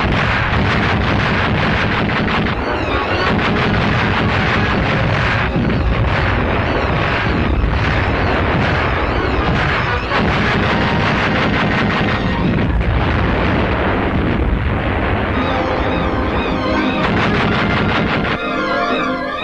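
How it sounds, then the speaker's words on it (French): Rapid-fire Beaufort anti-aircraft guns in wartime Tunisia, a dense, continuous barrage of loud bursts and booms running throughout, with no talk over it. "Les mitrailleuses contre avions sont doublées par les canons Beaufort à cadence rapide,"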